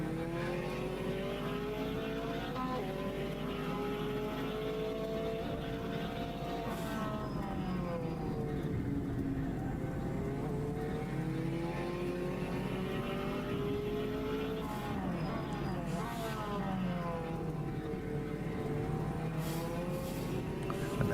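Race car engines in the rFactor 2 racing game, at the 1984 San Marino Grand Prix, drone steadily throughout, their pitch climbing and falling as they rev through gears, loud and continuous with no talking.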